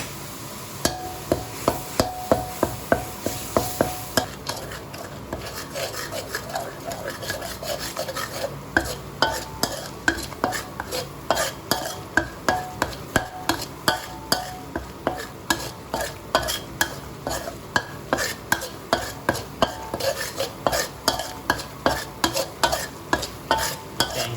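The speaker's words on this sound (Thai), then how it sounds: "นำเครื่องแกงลงผัดให้หอมแล้วก็แตกมันนะครับ" Thai curry paste for a coconut shoot and pork belly curry being stir-fried in a pan, a steady sizzle broken by repeated rhythmic scrapes and knocks of the spatula, close and continuous with no talking.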